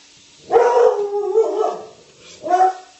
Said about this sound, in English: Pardon my dog, he's protecting us